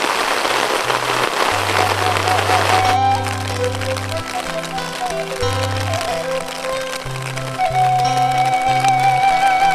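Rain falls steadily around a small hut in rice fields, a broad hiss that is clearest at the start and then continues beneath loud, steady music.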